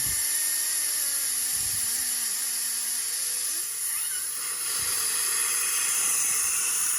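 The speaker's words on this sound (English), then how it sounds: "get the stem all the way out here and really let that air rip out" A continuous, loud hiss of air rushing out of a tire valve with the valve stem removed, steady from start to finish with faint tapping underneath.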